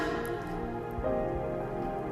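Steady, dense rainfall patters across the whole stretch during an outdoor worship service, a continuous wash of drops on a surface with a faint tonal hum in the background.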